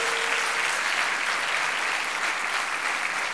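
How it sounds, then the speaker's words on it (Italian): A concert audience gives the performing artists a big round of applause, a loud, dense and unbroken wash of clapping throughout, with no break or change in intensity. "Fategli un grande applauso"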